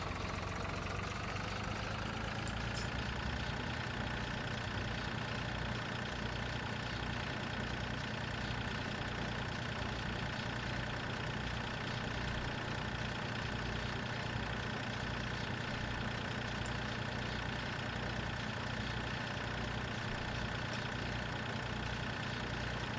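A John Deere tractor idles steadily in Farming Simulator 2013, its engine holding a constant low rumble with a faint rhythmic pulse throughout, no voices over it.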